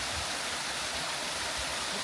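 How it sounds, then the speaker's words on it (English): A waterfall in Snowdonia pours steadily into a clear, greeny-blue pool, giving a constant, full rushing wash with no pauses. "greeny blue delicious waterfall and pool"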